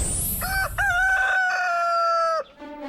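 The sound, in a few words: rooster crowing in the early morning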